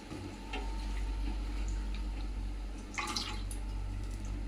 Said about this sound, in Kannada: ನಂತರ ಈ ನೀರನ್ನು ತಗೊಂಡು ಮೇಲ್ಗಡೆ ಈ ರೀತಿಯಾಗಿ ಸವರ್ಬೇಕಾಗುತ್ತೆ.